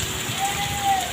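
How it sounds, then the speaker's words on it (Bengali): Steady heavy rain with strong wind pours down across an open area near Daulatpur, a continuous broadband wash with a faint tonal whine. "এখানে প্রচণ্ড ঝড়, প্রচণ্ড বৃষ্টি, বাইরে বেরোনো সম্ভব নয় বৃষ্টিতে"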